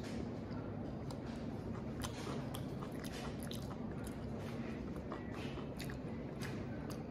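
Biting into and chewing the skin of an M-4 mango, with steady, close, wet chewing and squishing noises throughout and no talking.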